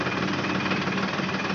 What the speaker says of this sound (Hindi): गोकुल अभी पूरा ट्रैक्टर चला रहा है